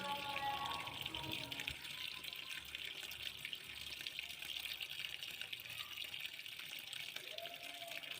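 Water pouring into a TCL washing machine: a steady, continuous rushing and gushing that holds at an even level throughout, heard from close by.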